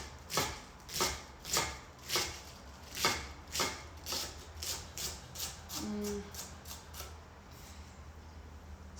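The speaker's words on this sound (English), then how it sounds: "now I'm gonna come across and shred it, chiffonade it, nice thin slice" A knife chiffonades spring vegetables on a cutting board for a ferment. Evenly spaced crisp chops come about twice a second and then speed into quicker, lighter cuts, close up and clear over a quiet room hum.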